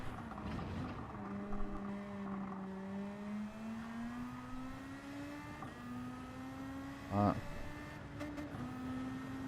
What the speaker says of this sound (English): revving it out, trying to get as much out of it, but then revving too much